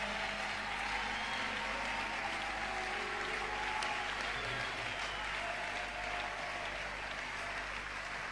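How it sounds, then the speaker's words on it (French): A church congregation applauds to acclaim the Lord, sustained clapping filling the room evenly for over eight seconds, fairly distant and steady, with faint crowd voices mixed in. "Est-ce qu'on peut acclamer le Seigneur?"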